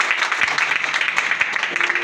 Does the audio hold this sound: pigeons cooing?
no